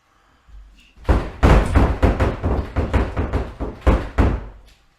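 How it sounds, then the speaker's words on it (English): Someone repeatedly punching a door, heard as a rapid series of loud, heavy thuds in an irregular rhythm that lasts several seconds and is close and forceful. "Is he punching the door?"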